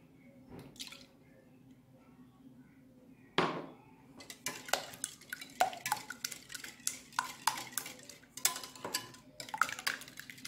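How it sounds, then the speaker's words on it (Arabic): Milk goes into a pot of oil on a stove, producing soft dripping and pouring followed by clinking, stirring and scraping sounds of utensil against metal, fairly close and moderately quiet. "دابا غادي نزيد الحليب"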